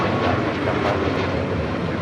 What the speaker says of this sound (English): That is United 417 departing to Kahului on a MAX 9